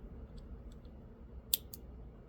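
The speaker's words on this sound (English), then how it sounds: "Once you hear the clicking sound, it's good." Plastic window switch clips on a 2012 Kia Sportage snap into place, two quick sharp clicks close together against a quiet room.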